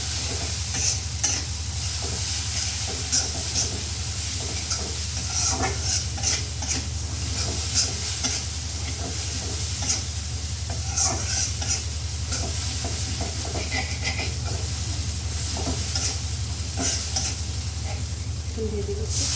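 Spices with turmeric and chili powder are stir-fried in a pan for jackfruit seed curry, giving a continuous dense sizzle with frequent spatula scrapes and clinks, and a low hum underneath.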